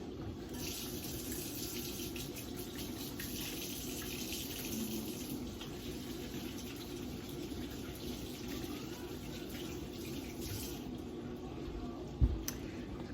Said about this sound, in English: Let me wash my hands really fast.